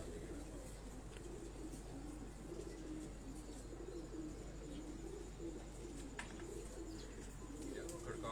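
Pigeons coo softly and repeatedly in a loft in Lahore, the low calls faint and partly buried under a steady ambient hum, with occasional faint chirps.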